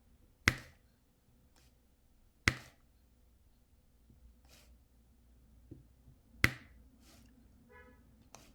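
Sharp popping snaps come from glue dots releasing during diamond painting, three loud close pops spaced a couple of seconds apart with fainter clicks between, in a quiet room.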